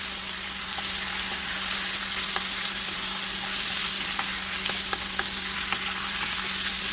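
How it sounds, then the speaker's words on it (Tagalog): Chicken pieces sauté in a hot pan for barbecue-style adobo, a dense, steady frying hiss with occasional crackles and stirring taps, close and continuous with no voices. "So gigisa lang natin siya guys."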